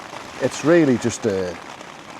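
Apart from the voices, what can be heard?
heavy rain falling outdoors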